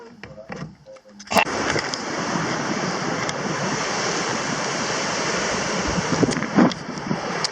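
Steady wind roaring and surf washing in continuously, loud and close, with a few faint voices and bumps at the very start.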